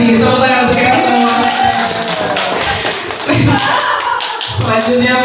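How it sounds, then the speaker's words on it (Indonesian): Audience of teachers at a school workshop session applauds, loud irregular clapping with occasional thuds and some voices mixed in over a few seconds. "Tepuk tangan untuk kita semua."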